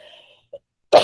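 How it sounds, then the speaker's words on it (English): A single short cough bursts out at the very end after near silence, close and fairly loud, preceded by a faint tonal trace and a tiny click. "I got to stop coughing here."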